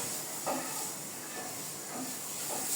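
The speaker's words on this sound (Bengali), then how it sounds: "হালকা করে একটু এই চিকেন যে সসেস আছে সেগুলিকে একটু হালকা ভেজে নেব।" Chicken sausages fry lightly in a pan, giving a soft, even sizzle and hiss throughout, with a few faint stirring scrapes.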